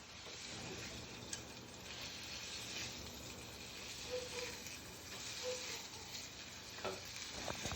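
A burger patty sizzles and fries in a pan with a steady, close, crackling hiss, punctuated by a few brief clicks and scrapes, with no talking.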